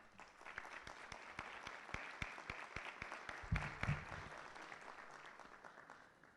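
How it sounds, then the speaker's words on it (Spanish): Welcoming applause from an audience at a judiciary lecture, with individual claps audible in a steady round that swells midway and gradually thins toward the end. "solicito un aplauso de bienvenida"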